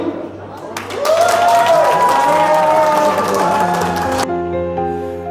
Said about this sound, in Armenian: թող մի հատ ծափեր տան հարսիկի կողմը, ծափեր տան, հարսիկի կողմը ծափեր տվեց